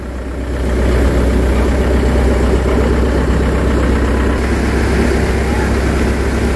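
A Komatsu PC120-6 excavator engine idles close by with a steady, continuous low rumble and mechanical drone. It runs unbroken throughout, with no voices heard.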